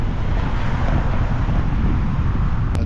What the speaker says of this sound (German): Also wenn der Wind so zieht, dann ist das schon echt frisch